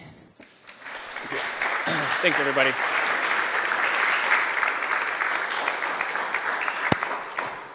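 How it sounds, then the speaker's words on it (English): An audience at an art direction talk breaks into applause, which swells from a few claps into steady, full clapping that fades slightly toward the end. Someone speaks briefly under it. "So let's have another big round of applause"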